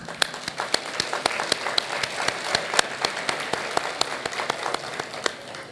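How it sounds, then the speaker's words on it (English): An audience applauds local elected officials asked to stand at an awards breakfast, with steady clapping from a room of people and a few sharp, distinct claps standing out close by throughout. "Please give them a round of applause."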